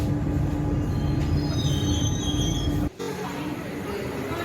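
A train rumbles steadily with a high wheel squeal and metallic screech as it arrives at St. Thomas Mount railway station in Chennai, loud and close, with a brief dip in the noise near the end.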